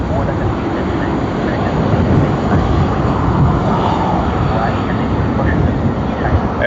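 A Cathay Pacific airliner departing Sydney Airport makes a continuous, loud jet roar that holds steady throughout, with no clear voices over it.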